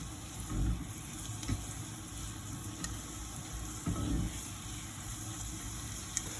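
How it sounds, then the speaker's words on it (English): Chopped onions, white or red, sweating in a pan for mussels provençale, giving a steady, even sizzle with a few soft stirring knocks. "Now we're going to keep these in here for a couple of minutes, sweat them down until they're soft"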